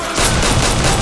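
Dense, loud burst of automatic gunfire from a third-person shooter, 50 Cent: Blood on the Sand on Xbox Series X, a continuous rattling volley filling the whole second with no talk.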